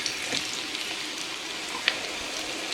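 Onion slices cut into rounds sizzle in warm oil with a steady, soft crackle and a couple of small pops, close and alone with no talking.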